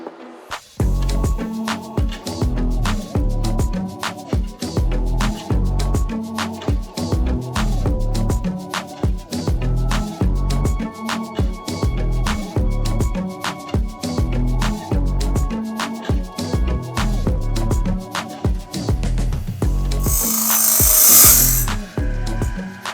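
A LOGOSOL Grindlux automatic band saw blade sharpener running, with a rapid, even train of mechanical grinding clicks repeating for the whole stretch, close and loud, ending in a brief burst of hissing grind.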